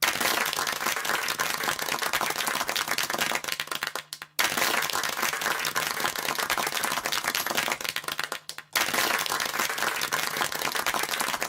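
A canned crowd-cheering sample plays loud and dense at a Bushiroad trading card game strategy presentation, a steady wash of cheers and applause that cuts out briefly twice and restarts, as if looped.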